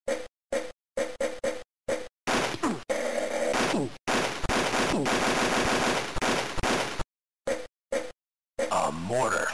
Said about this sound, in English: An auto rifle.